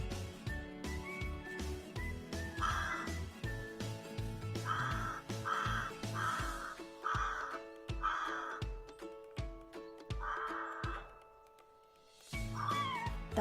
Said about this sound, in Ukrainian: Найпершими у березні прилітають граки.